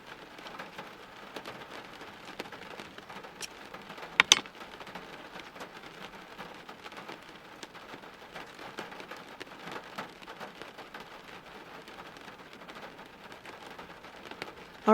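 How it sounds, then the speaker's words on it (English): Rain falls steadily outside a van, a soft continuous patter of drops on the surface with a couple of sharper taps midway, fairly quiet and with no voices. "It's currently raining outside, it's cool, it's breezy"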